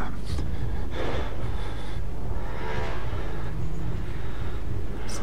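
Heavy breathing of a pursuer in the horror video game Outlast, rasping gasps and snorts recurring over a loud, constant rumbling background.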